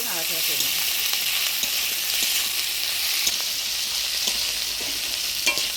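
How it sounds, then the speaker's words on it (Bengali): Dried bhola shutki fish, coated with turmeric and salt, sizzles steadily in a pan with onion, chili and garlic, a loud, even frying hiss with occasional stirring clicks. "পেঁয়াজ লঙ্কা রসুনের সাথে শুটকি মাছটা ভালো করে ভাজা ভাজা করে নিলাম"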